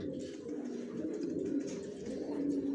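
Young racer pigeons coo in a continuous low, throaty murmur, several birds overlapping close by with steady loudness throughout.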